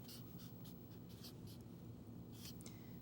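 A pen or marker writes a math expression, making soft, close scratchy strokes in short bursts over a low steady hum, with no talking.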